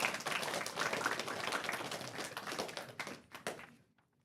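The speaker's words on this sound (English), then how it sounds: "Let's give her a round of applause." Audience at an elementary school awards ceremony clapping, a dense patter of many hands at moderate distance that thins out into a few last claps and then stops.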